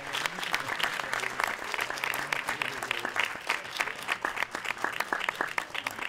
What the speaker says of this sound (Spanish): Un aplauso también a Alfonso Carmona.